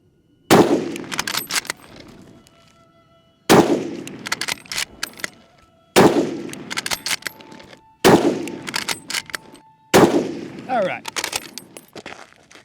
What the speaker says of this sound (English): let's test the grouping at 100 yards with the Type 2 Paratrooper rifle